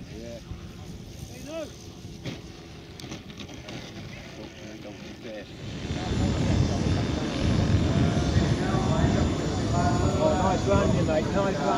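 Radio-controlled WW2 bomber model aircraft coming in to land, a droning engine that swells louder midway and holds steady, with people chatting outdoors over it.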